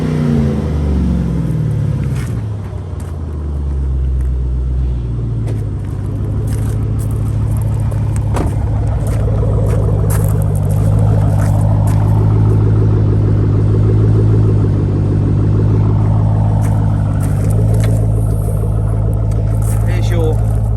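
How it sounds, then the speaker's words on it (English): A Ford Mustang GT V8 exhaust idles with a deep, steady rumble, then swells through a couple of rising and falling revs before settling again. "let's have a quick listen to the exhaust system"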